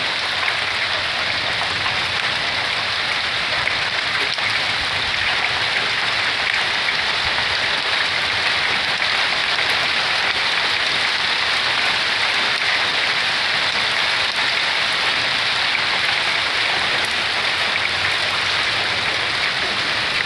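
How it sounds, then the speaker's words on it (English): Heavy spring hailstorm slush pouring out of a gutter on the Rockies Front Range, a loud continuous rushing splash with steady falling precipitation, close by and unbroken. "All the hail slush screaming out of the gutter."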